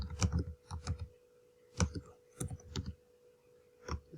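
Computer keyboard typing, a handful of separate soft clicks and taps in small irregular clusters over a few seconds, near and with no speech.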